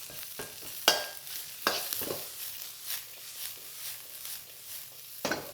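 Onions hit a smoking hot wok and are folded through, giving a soft sizzle broken by several sharp clanks and scrapes of the utensil against the metal, close and fairly quiet.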